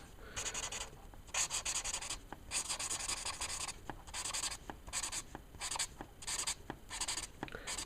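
Letraset Promarker felt-tip pens colouring a Halloween pumpkin design on paper, a close, steady scratchy rubbing in repeated strokes with short pauses between bursts, no voices.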